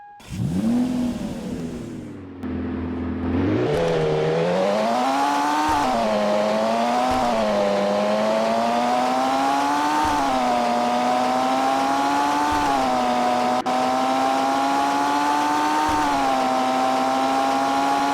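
McLaren race car engine in a racing video game starts up, then revs and climbs through rising, wavering whines with shifts in pitch, loud and close, with no talking.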